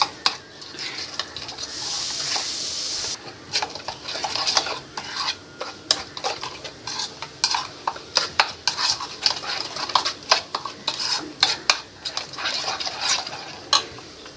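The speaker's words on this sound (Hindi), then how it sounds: "सारे इंग्रेडिएंट्स को अच्छे से मिक्स करेंगे।" Utensil stirring and mixing spices, curry powder, cumin and vinegar into a tandoori prawn marinade in a bowl, with repeated scraping and clinking strokes, close and fairly quiet, no talk.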